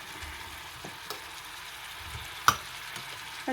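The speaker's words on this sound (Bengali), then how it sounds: "কোফতাগুলো দিয়ে দিলাম। এখানে আমি কিছুক্ষণ কোফতাগুলোকে আমি কষিয়ে নেব।" Koftas fry and are stirred in a pan, giving a faint steady sizzle with a few soft clinks and scrapes of the utensil, including one sharper tap near the end, with no voices.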